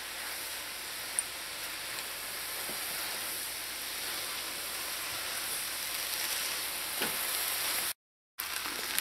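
Chow mein noodles with chopped scallions are tossed and mixed in a hot frying pan, giving a steady soft sizzle with occasional scraping stirs, close and alone.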